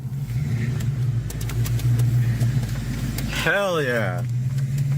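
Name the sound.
car with 5.0 engine revving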